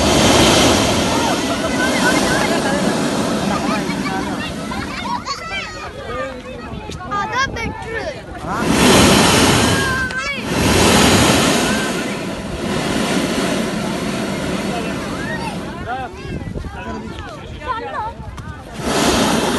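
Sea surf rolls onto the beach at Salalah, Oman, a steady broad wash with wind buffeting the microphone and swelling in waves, while voices talk over it.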